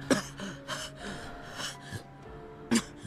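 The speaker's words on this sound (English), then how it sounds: "For a little while, he coughed as if his lungs were going to collapse." Video game character coughing hard and wetly in repeated bursts, with harsh breathy fits and throaty catches spread across a few seconds, moderately close and with no talk over it.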